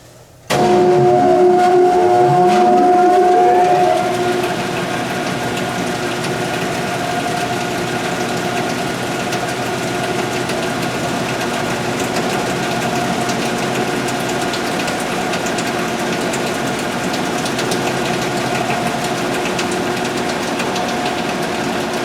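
Tannewitz RH vertical band saw started up with no blade fitted: a loud motor hum with a rising startup tone over the first few seconds, then a steady drone of the spinning flywheel throughout.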